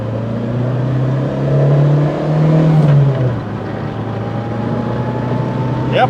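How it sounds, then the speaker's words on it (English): A 1994 Skoda Favorit engine steadily drones and rises as the car accelerates toward 80, with a continuous loud hum under the cabin and a brief swell in pitch partway through. "Let's just do a quick speed run and see how quickly we can get to 80 without blowing it up"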